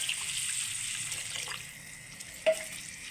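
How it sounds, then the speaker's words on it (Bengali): A mug of water poured into a cooking pot of fish-head muri ghonto, rice-grain curry, giving a steady close hiss and gurgle over about three seconds, with a small clink near the end and no voices. "প্রথমে 1 মগ জল দিয়ে দিচ্ছি"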